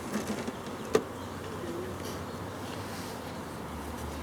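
A steady, low insect buzz of many honeybees from a newly installed package humming continuously close by at a hive, with a soft knock near the start.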